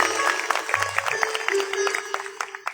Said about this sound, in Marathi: आपण सर्वांनी त्यांच्यासाठी एकदा टाळ्या वाजवा.